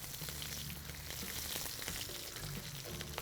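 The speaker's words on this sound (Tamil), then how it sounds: "கடுகு, கருவேப்பிலை, காஞ்ச மிளகா, பூண்டு, 4 பச்சை மிளகா கீர்னது எல்லாத்தையும் போட்டு அந்த நல்லெண்ணெய் நல்லா வாட்டுங்க" Mustard seeds, curry leaves, dried and green chillies and garlic fry in sesame oil, a faint, even crackle and sizzle with light spluttering throughout.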